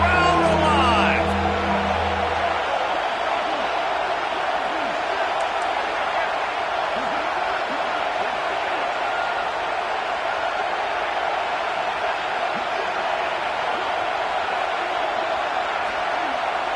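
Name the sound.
stadium crowd cheering in a football video game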